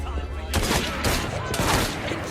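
Gunfire in Assassin's Creed Syndicate: a few loud, sharp shots crack at close range against a busy game soundscape, in a quick sequence of about three bursts.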